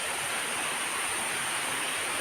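A waterfall near the Baronda Devi temple rushes in a soft, steady, even hiss, faint and unbroken, with no voices.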